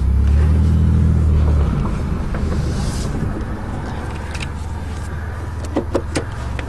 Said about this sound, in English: And this thing's even got power seats at work